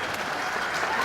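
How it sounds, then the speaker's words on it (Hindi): A crowd applauds in a burst of dense, continuous clapping, fairly near and even throughout the short moment. "अब ताली बजाओ।"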